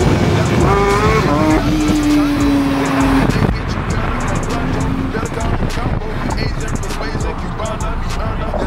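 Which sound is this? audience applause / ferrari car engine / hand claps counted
ferrari car engine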